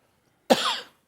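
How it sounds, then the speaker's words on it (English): A single short, sharp cough from an adult presenter in a quiet indoor fabric shop, sudden and fairly close, trailing off within half a second against silence. "Sorry, I do just need to give a quick cough."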